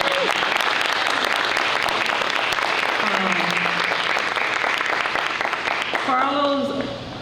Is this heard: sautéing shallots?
no